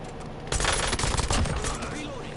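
Pistol fire in a Call of Duty Warzone zombies match, a short dense cluster of sharp shots mixed with game noise at moderate loudness.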